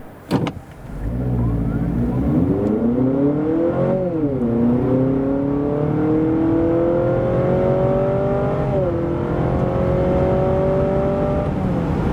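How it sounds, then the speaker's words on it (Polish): A 2024 Honda CR-V with a 2.0-litre 184 hp hybrid powertrain accelerates hard from a standstill to 100 km/h, its engine drone climbing steadily in pitch with two brief dips along the way, heard loudly from inside the cabin. "Tak samochód przyspiesza od zera do setki."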